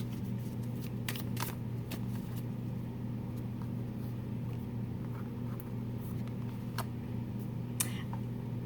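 Tarot cards being shuffled, soft papery riffles and scattered sharp flicks over a constant low hum.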